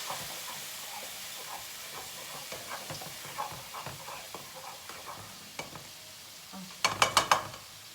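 Eggplant fries with a faint, steady sizzle, joined by scattered utensil clinks and a brief burst of clattering near the end.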